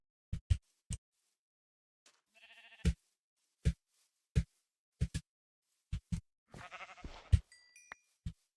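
Sheep bleat in a video game: a short quavering bleat stands out among sharp sparse clicks and a burst of noisy clatter over near silence.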